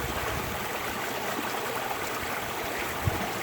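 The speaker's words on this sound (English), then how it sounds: "on this site where I can only hear the flow of nature" A river flows right beside, its steady broadband wash of moving water continuous and fairly close, with one small splash or knock near the end and no talk.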